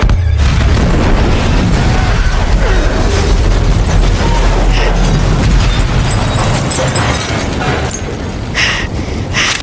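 A grenade blast in an action-film battle scene, a loud, sustained booming roar with heavy low rumble and crackling debris that fills the whole stretch and never lets up.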